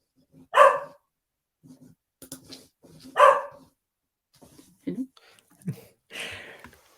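A dog barks twice, loud and close, with a few quieter yips and soft vocal sounds between the barks.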